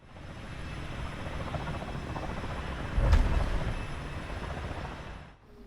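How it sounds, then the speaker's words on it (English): A Halo Pelican dropship engine in Microsoft Flight Simulator throttles up as a steady, loud roaring rumble like a helicopter, with a brief surge of power midway before it fades out, no talk. "we'll slow our descent by increasing the throttle"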